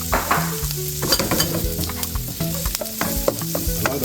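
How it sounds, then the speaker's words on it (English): Onions frying in oil in a pan for shrimp fried rice, with continuous close sizzling and crackling and stirring scrapes throughout. "Add a little bit more oil. And then we add our onions."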